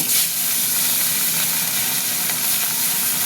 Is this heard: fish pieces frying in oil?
yes